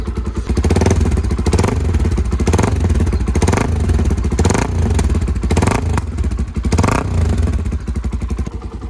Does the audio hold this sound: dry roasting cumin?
no